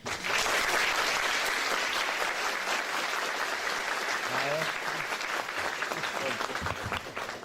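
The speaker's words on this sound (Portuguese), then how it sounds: "Por favor, uma salva de palmas." An audience at a cultural lecture event applauds warmly for the president of a literary academy, a loud, continuous wash of clapping with a few voices mingled beneath.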